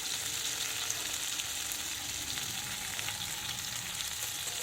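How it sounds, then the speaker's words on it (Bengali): Taro pieces fry in oil with cumin and chillies, giving a soft, continuous sizzle that stays even throughout at a modest distance, with no voices. "তা কচুগুলো একটুখানি ভেজে নিচ্ছি"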